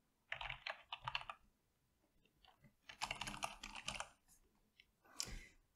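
Data typed into an Excel table on a computer keyboard, heard as close, crisp key clicks in quick bursts, two short runs first, then a longer flurry and a final brief spurt, with quiet gaps between.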